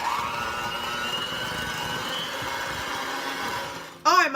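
A kitchen blender or mixer hums steadily, whipping heavy cream with vanilla and caramel extract into frosting for a Southern caramel cake, before a voice cuts in at the end.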